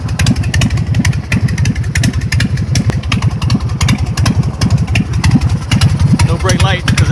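A 2002 BigDog motorcycle, revived after eight years of rusting, runs with a loud, lumpy rhythmic engine beat close by, steady pulses throughout with a voice speaking briefly near the end.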